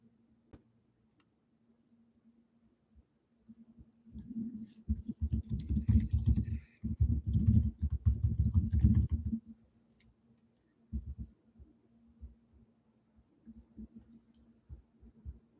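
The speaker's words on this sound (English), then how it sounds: "You hear my typing? Sorry, I'm going to be typing furiously today." Someone types fast on a computer keyboard nearby, with quiet scattered taps, then a dense flurry of clattering keystrokes for several seconds and a shorter burst near the end, and no talking.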